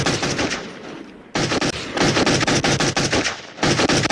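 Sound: gunfire, shooting at a ghost, probably in a video game

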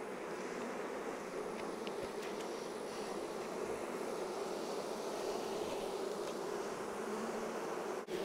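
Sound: honey bees buzzing in a hive box

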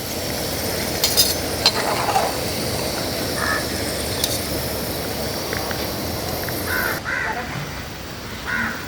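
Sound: scooping fried chicken snack out of sizzling oil

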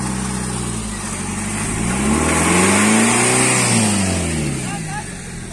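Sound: Thar SUV engine revving while recovering a stuck car

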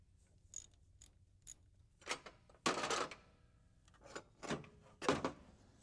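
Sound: removing an air pump from a Scrambler engine

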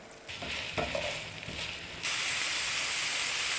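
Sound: ground beef sizzling in melted butter in pan

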